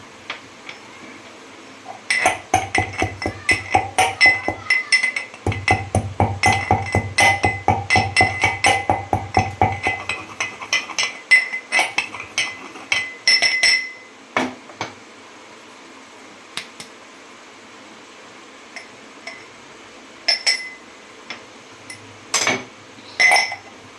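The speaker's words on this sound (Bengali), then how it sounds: "এখানে একটু ছোটো এলাচের দানা আছে এটাকেও আমি গুঁড়ো করে নেবো" Green cardamom seeds are ground in a mortar, giving rapid, hard clinking taps in dense bursts that thin out into scattered knocks, close and fairly loud.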